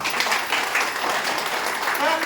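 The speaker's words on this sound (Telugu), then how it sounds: "ఒకసారి గట్టిగా క్లాప్స్ కొడదాం." Applause from an audience at a health and wellness business meeting in Hyderabad: steady, dense clapping from many hands, with no break across the whole stretch.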